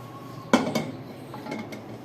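A metal karahi cooking pot is picked up and set down with a couple of sharp clanks, followed by lighter clinks and knocks over a steady low kitchen hum.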